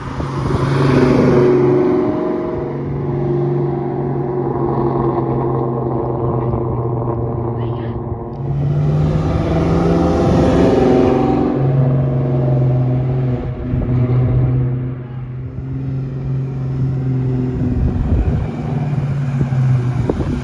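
A 2003 Ford Mustang Mach 1 on a new Magnaflow exhaust driving past, its loud exhaust drone swelling and fading twice as the car goes by with wind noise on the microphone, while a voice talks over it.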